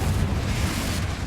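Spell explosion from the Confringo fire curse in Hogwarts Legacy, a dense, sustained rumbling blast with a strong low-end roar that holds steady for just over a second, loud and close with no talk.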